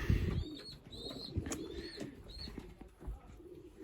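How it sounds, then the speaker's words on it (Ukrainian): Pigeons in a pigeon loft, with young birds among them, give soft repeated coos and calls over low rustling and bumping, close by, with no talk. "Дивіться, от теж там двоє голубенят."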